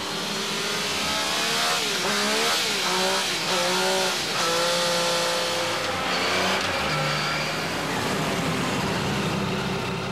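A Triumph Rocket 3 motorcycle engine roars steadily on a test rig at around 110 km/h, a loud, continuous close drone with slight pitch rises and dips, no speech.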